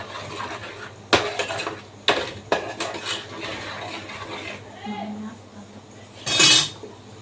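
A spoon stirs chicken gravy for a chicken pickle in a cooking pot, giving sharp scraping clinks against the metal at intervals and a louder rasping stir near the end, close by over a low steady hum.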